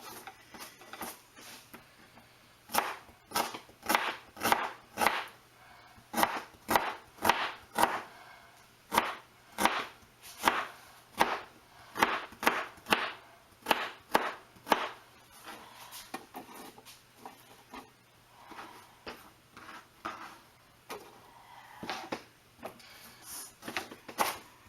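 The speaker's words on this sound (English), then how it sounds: "Same thing, just chop them up." Small herbs being chopped with a knife for preserving, the blade striking the board in quick, steady bursts of close, crisp taps with brief pauses between runs, and no talking.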